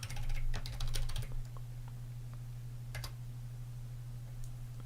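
A password being typed on a computer keyboard: a quick burst of key clicks, a pause, then a few more isolated taps, close and fairly quiet over a steady low electrical hum.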